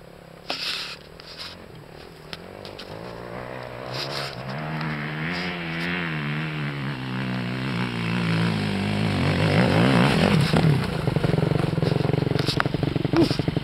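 A motorcycle engine that is seizing up runs with a wavering, uneven tone that grows louder and rougher over time, breaking into harsh crackling near the end, with short bursts of background noise.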